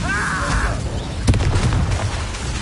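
A fire spell cast in the video game Hogwarts Legacy: a sudden bright burst of flame around the middle, over continuous game noise and rumble, with a brief rising magical whoosh early on.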